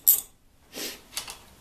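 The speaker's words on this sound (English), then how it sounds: "takes a 14mm wrench and screw this nut off" A 14mm wrench working a crank nut loose: a sharp metallic clink, then a short scraping ratchet-like rasp and two quick light clicks, close and fairly quiet, no voices.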